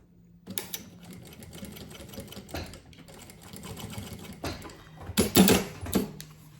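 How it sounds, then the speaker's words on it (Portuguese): A sewing machine runs a finishing seam on a small handmade mini suitcase, with bursts of rapid mechanical stitching broken by short pauses and a louder clattering run near the end, heard close and alone. "eu venho com o acabamento abaixo e passo uma outra costura aqui, pra finalizar"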